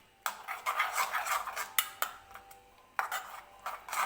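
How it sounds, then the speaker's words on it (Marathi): Broken eggs beaten for an omelette in a small pot, a utensil clinking and scraping against the metal in quick irregular bursts with short pauses, close and alone. "अंडे मिक्स करायला घेतलेले आहे"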